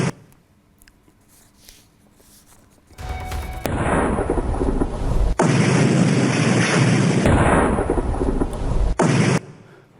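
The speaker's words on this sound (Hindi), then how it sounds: "ये धमाके इतने जोरदार थे कि रात के वक्त में ही दिन जैसा उजाला दिखा" Heavy booming blasts from airstrikes on weapons storage sites in Syria at night, a quiet stretch giving way to sustained loud rumbling roars with a sharp break midway and rolling echoes.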